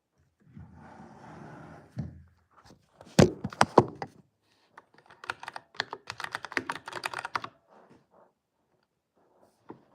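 Keys tapped on a computer keyboard during a Voron Trident 3D printer build, a few loud thunks followed by a quick close burst of clicky typing, then quiet.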